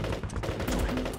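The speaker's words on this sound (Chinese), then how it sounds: "听枪声，鬼子已经冲进村子了" Gunfire in a wartime drama as enemy troops storm a village: a rapid burst of sharp shots, loud and close, with no talk.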